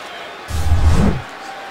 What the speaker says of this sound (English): Quiets down this sellout crowd